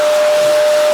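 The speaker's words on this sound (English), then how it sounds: "I'm going to hoover it up, because there's some dust looking very suspect" A vacuum cleaner hoovers dust from an old acoustic guitar with a loud, steady whine that runs without a break for the whole second.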